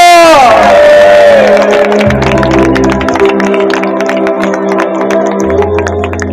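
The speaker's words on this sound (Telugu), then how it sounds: "చప్పట్లు కొట్టి బిగ్గరగా ప్రభువు స్తోత్రం చెప్పు" A church congregation at a night prayer service cheers and shouts praise to God together, a loud sustained crowd roar with clapping mixed in and steady music underneath.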